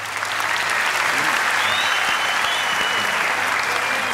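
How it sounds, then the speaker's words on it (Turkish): Steady, dense applause from a theater audience welcoming a contestant onto the stage of a Turkish talent show final, sustained and fairly loud throughout with no clear talking. "Şimdi alkışlarınızla İbrahim'i sahneye davet edeceğim."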